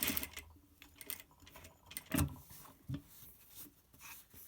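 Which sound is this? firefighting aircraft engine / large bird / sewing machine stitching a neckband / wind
sewing machine stitching a neckband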